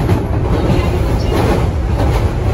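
An Osaka Metro train rumbles steadily close by at Shin-Osaka Station, a continuous loud low roar with faint rattling, no voices.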